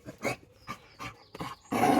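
A dog growls and barks at close range in a series of short, gruff bursts, ending with a longer, louder snarling growl.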